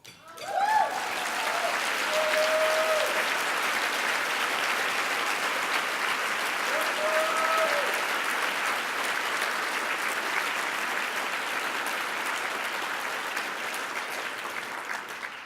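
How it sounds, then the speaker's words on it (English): Audience at an annual luncheon keynote applauding, sustained even clapping across the room with a couple of brief voices or whistles early, slowly tapering toward the end. "I'm going to tell my mother you clapped"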